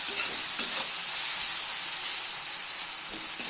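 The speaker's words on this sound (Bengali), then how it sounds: "ভালো করে নেড়ে চেড়ে নেব" Ground coriander, cumin and black pepper are stirred in a hot pan for mung dal, making an even, close hiss of frying with a faint scrape near the start.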